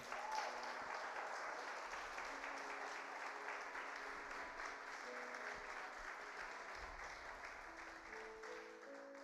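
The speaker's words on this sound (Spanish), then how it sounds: "denle un aplauso al Señor." A church congregation applauds during a sermon, with sustained, even clapping from many hands that fills the room at a faint, distant level.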